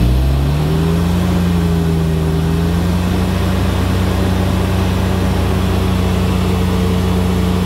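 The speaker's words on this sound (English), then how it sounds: "Hold it at 3000 RPM." A car engine with a damaged, melted DPF is revved and held steadily at about 3000 RPM, producing a loud, continuous droning roar with a steady pitch for the whole stretch.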